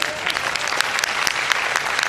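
Audience applause at a political gathering addressed by a chief minister, a dense, steady clapping from a large crowd, close and continuous for a couple of seconds with no talk over it.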